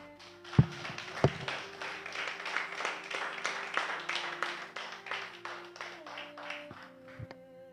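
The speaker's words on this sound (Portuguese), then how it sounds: "Aplauda o Senhor." A church congregation claps together in a sustained round of applause, dense and even over about eight seconds, while a sustained organ or keyboard chord holds underneath.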